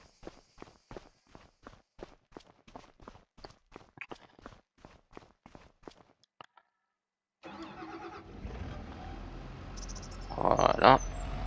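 Footsteps walk at a steady pace for about six seconds, then a tractor engine in Farming Simulator 25 starts up and settles into a low, steady idle with a brief rising rev.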